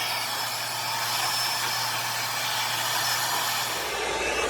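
Hair dryer blowing on damp color-treated hair, a continuous loud whooshing hum with a steady low motor drone, nearly unchanged for the whole stretch.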